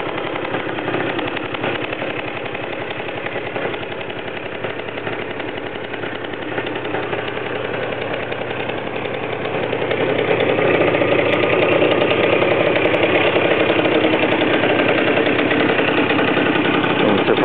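Honda Super Vino scooter engine idling steadily and continuously nearby, a buzzing drone that grows slightly louder partway through, with no talking.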